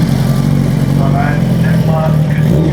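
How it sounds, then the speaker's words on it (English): A custom motorcycle engine runs at a steady, low idle at a motorcycle competition, a close, throbbing rumble with people talking over it. "if you listen to the engine sound, you will see it's head cam only"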